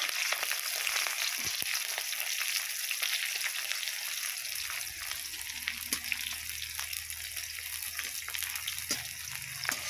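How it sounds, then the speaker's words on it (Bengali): Onions, cumin seeds and green chillies fry in hot oil, a steady close crackling sizzle with scattered pops and some stirring, no talk. "এবারে তেলের মধ্যে সাদা জিরে আমি দিয়েছি, দিয়ে আর একটু পরে পেঁয়াজগুলো দিলাম, দিয়ে আর সঙ্গে আছে কাঁচা লঙ্কা"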